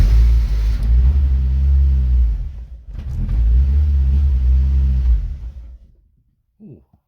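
A Fiat Cinquecento turbo engine idles loud and close, rising into two sustained revs separated by a brief dip, then cutting out near the end with a short mechanical clatter.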